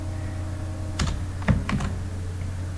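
Computer keyboard typing while writing code: a few close key clicks, about three or four quick taps in a short cluster, over a steady low background hum.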